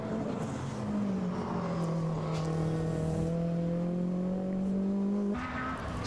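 A rally car, with a Ford RS200 setting the pace, races on the Goodwood Motor Circuit. Its engine holds a loud, sustained drone that sags slightly, then rises sharply near the end as it accelerates, with no talking.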